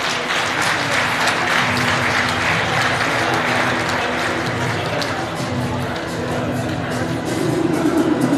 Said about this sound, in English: We can clap hands for them.